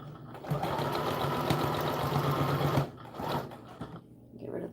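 A sewing machine runs a seam along the edge of a doll dress, a steady close mechanical whir for nearly three seconds before stopping, followed by a few short bursts and light handling sounds.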